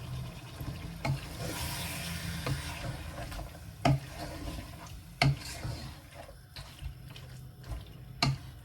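Large garlic cloves frying and stirred in a pot while cooking khichuri, a steady sizzle with a few sharp utensil clinks against the pot spaced through the clip; no talking.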